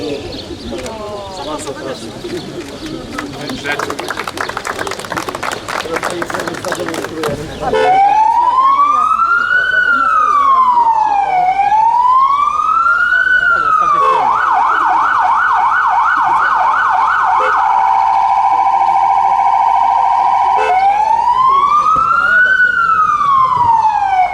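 A new ambulance for the hospital in Puck, Poland, blares its siren: after a stretch of busy, clattering noise, a loud wail sweeps up and down, switches to a fast yelp and a steady two-tone, then returns to the wail.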